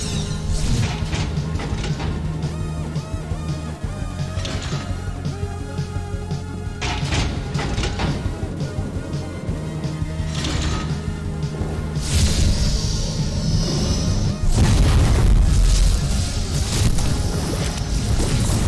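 Dense, loud game combat from start to finish, with bursts of gunfire and heavy explosion-like crashes that swell in the last few seconds.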